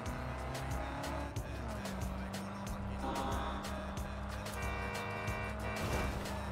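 Engine of a car driving in Cyberpunk 2077, a steady droning hum with shifting pitch, a brief squeal of tires and sharp clicks overlaid, faint and continuous throughout.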